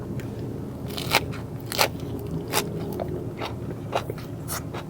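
Crunchy raw vegetable salad of carrot, lettuce, fern shoots, tomato, cucumber and bird's-eye chilli eaten with rice, heard as close, crisp bites and crackling chews at a slow irregular pace, with no talking.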